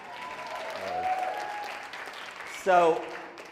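Crowd at a marketing bootcamp applauds a participant named Glenn, a soft, steady bed of clapping in the background while a voice and a brief tonal sound rise over it.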